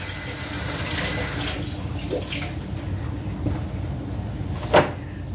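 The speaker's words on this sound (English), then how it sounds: "I'll just bring it over here, set it in the sink, rinse my hand off." Water runs steadily from a kitchen sink tap as a hand is rinsed, a continuous broadband wash with a few small clatters and a sharp knock near the end.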